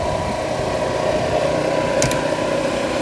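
A 4,000 watt gas generator runs at a steady drone beside a 2018 Winnebago Sunstar 27PE motorhome, with a constant mid-pitched engine hum and a brief faint click partway through.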